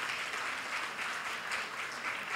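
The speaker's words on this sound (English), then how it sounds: "That calls for a round of applause" Audience applause at a book launch event, a dense, fairly faint and even wash of many hands clapping with no talk over it.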